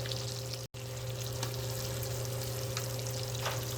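Blackened fish fries in a pan with a steady, even sizzle that hisses on without pause, broken only by a split-second dropout near the start.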